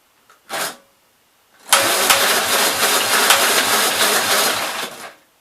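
A Gravely 65 LI tractor engine, being revived after years unused, gives a brief cough, then catches and runs loud and close for about three seconds before cutting out.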